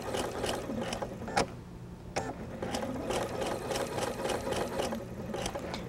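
A sewing machine runs steadily, stitching off the end of the fabric and straight onto an anchor cloth, its fast needle chatter broken by a few sharp clicks and brief pauses.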